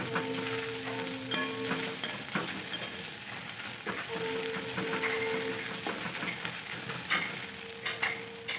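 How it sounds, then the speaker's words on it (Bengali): Chopped onion and green chilli fry in a pan over a medium-low flame, giving a dense, continuous sizzle close by, broken by repeated scraping stirs of a spatula and a few light clatters. "আমি মিডিয়াম টু লো ফ্লেমে এটা ভালো করে ভেজে নিচ্ছি"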